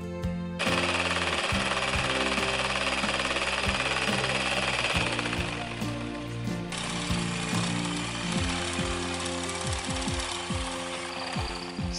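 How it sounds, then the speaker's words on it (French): A powered olive harvesting pole, whether electric, mechanical or pneumatic, shakes the branches of an olive tree with a loud, continuous, rapid hammering rattle, close and steady throughout, with no talk. "La perche, plus actuelle, est soit électrique, soit mécanique, soit pneumatique."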